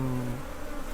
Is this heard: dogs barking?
no